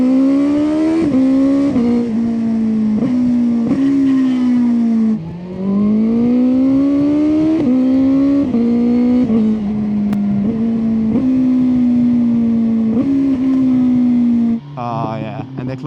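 A fast touring motorcycle with the suspension in sport mode revs hard on the road, its engine note climbing steadily through the gears with sharp drops at each shift, loud and close throughout before easing off near the end.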